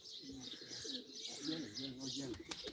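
Pigeons cooing softly at a live pigeon auction, repeated low throaty coos with a few chirps, close but quiet, while someone talks over them.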